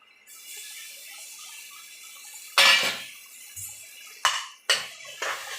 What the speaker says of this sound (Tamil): இதுக்கப்புறம் இஞ்சி பூண்டு பேஸ்ட் ஆட் பண்ணிக்கணும்.